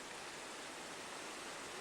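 Creek water at Pine Creek in San Isabel National Forest, partly diverted with sandbags and rock, makes a steady, even rushing wash that stays faint and distant throughout, with no voices.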